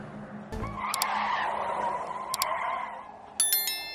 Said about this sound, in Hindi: एक झटके से गाड़ी रोकी